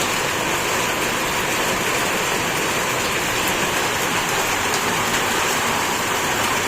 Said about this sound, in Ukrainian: маленький сипе град. Воно по траві бачу.